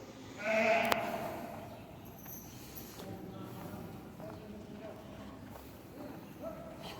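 A sheep in labor bleats loudly near the start, followed by quieter rustling and faint farmyard noise with scattered clatter.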